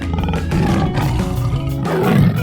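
A tiger in a 3D animal slide game gives a loud, sustained roar lasting a couple of seconds, backed by a continuous, busy layer of game sound.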